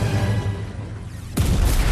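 Video game explosion in Skylanders Trap Team, a sudden loud deep boom bursting in after a rumbling buildup and continuing as a heavy roar.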